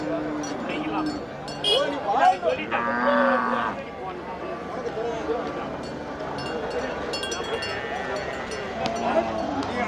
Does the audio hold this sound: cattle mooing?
yes